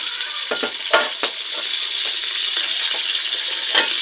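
Curry goes into hot oil in a pan and sizzles loudly and steadily, with a few sharp clinks of a spoon or utensil against the pan near the start and again toward the end.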